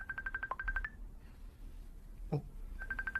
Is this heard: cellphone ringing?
yes